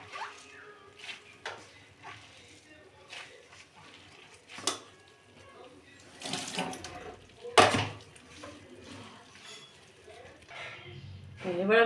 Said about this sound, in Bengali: এবার আমি চিপে যে জলটা থাকবে সেটা ফেলে দেবো।